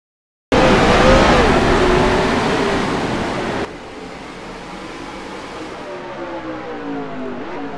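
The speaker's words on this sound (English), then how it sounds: "Gentlemen, start your engines!" NASCAR Nationwide Series race cars, including a Dodge Challenger at Montreal, roar past loudly at close range, a sharp burst of engine noise and passing tire sound that fades into a lower, rising drone from more cars further away.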